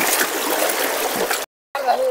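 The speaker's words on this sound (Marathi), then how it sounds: "वाव, तिकडे पाण्याचा फ्लोचा आवाज येतोय." A river flows in the countryside at Khed in Ratnagiri, giving a steady rushing wash of water with a short cut to silence near the end, while people talk over it.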